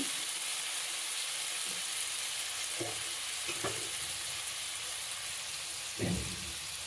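Asafoetida (hing) frying in hot oil for tava pulao, a steady soft sizzle with a few brief sharper crackles and spits near the end, close by and without speech.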